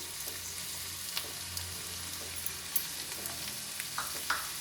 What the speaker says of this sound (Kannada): ಒಂದು ನಿಮಿಷ ಇದನ್ನು ಹುರ್ಕೊಳ್ಳೋಣ ಈ ಥರ ಹಾಗೆ ಸ್ವಲ್ಪ ಒಣಕೊಬ್ಬರಿ ತುರಿ ಹಾಕ್ತಾ ಇದ್ದೀನಿ